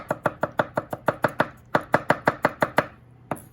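Rapid, steady knife chops mincing jalapeno rings on a board, about a dozen and a half sharp close taps in quick succession with a brief pause near the end.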